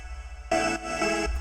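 Dance-pop synth chords run through FL Studio's Effector plugin on its Vox setting, entering abruptly after a brief lull as a bright, vowel-like buzzing chord stack, alone and moderately loud.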